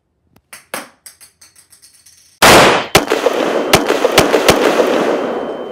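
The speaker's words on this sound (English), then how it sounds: "I thought I heard gunshots outside the room" Sharp gunshots in a video game, Spec Ops, crack one after another, first distant and faint in a quick run, then a loud burst and several heavy close shots over a sustained roar.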